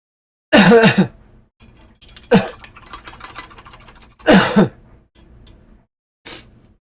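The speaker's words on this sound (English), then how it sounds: "I do have a hacking cough" A person with a cold coughs in several harsh, hacking bursts, loud and close, separated by quieter throat sounds and breathing.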